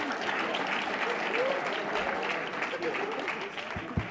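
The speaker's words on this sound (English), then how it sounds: "Can we get a round of applause?" Steady applause from an audience at a welcome ceremony, a dense wash of clapping that holds evenly for about four seconds with a faint voice or two under it.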